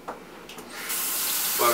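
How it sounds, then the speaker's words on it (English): A tap opens and water pours steadily into a sink for hand washing, close and fairly quiet, rising in strength after a brief start. "Hang on, I need to wash my hands."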